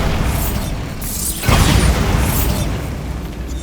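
In the video game Hogwarts Legacy, a Bombarda spell goes off with a loud booming blast halfway through, following a whooshing magical buildup with bursts of game sound effects before and after.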